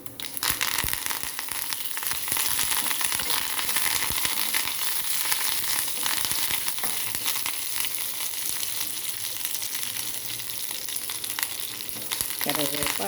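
Curry leaves and spices crackle and sizzle in hot oil as a tempering for a Telugu pappucharu lentil broth. The frying is loud, dense and close, and it continues steadily throughout with no talk.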